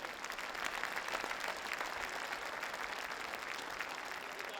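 Audience applause at a ceremony honouring a guest, marking Maharishi Dayanand Saraswati's 200th birth anniversary at Bharat Mandapam, New Delhi; steady, dense clapping from a sizeable crowd sustained evenly throughout without pause.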